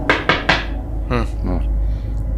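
A voice imitates loud knocking on a bathroom door with three sharp, evenly spaced knock-like hits, followed by spoken sounds.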